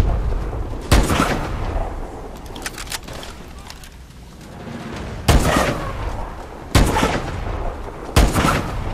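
Gunfire from the video game Call of Duty Advanced Warfare, with several loud, heavy single shots spaced a second or more apart over a rumbling battlefield background.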